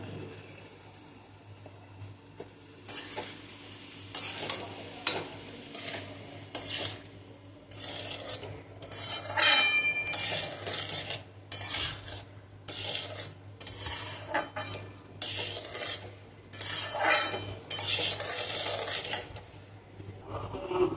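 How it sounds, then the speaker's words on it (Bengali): Rice with turmeric-fried potatoes frying in a kadai, with a metal spatula scraping and tossing against the pan in repeated rasping strokes, close and steady, with no talking. "ভাত ভাজা হয়ে গেল"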